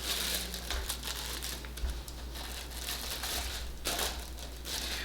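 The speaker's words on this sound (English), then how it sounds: "the easy way to cover these is using a plastic sandwich bag" A plastic sandwich bag crinkles and rustles close by as it is stretched over a seed tray of tomato and pepper starts. The soft crackles come in uneven bursts over a quiet low hum, with no talk.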